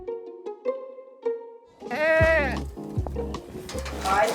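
A goat named Lincoln, the pet mayor of Fair Haven, Vermont, bleats with a loud, wavering cry that breaks in after a few soft, clicky sounds. Low, thumping noises and a faint voice continue beneath it.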